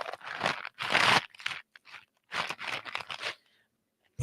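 Bunch of Crunch chocolate candy being crunched close to the mic in ASMR style, a series of loud, crisp chewing crunches in clustered bursts, separated by short silences.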